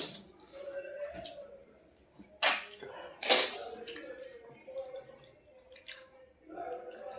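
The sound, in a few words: sneeze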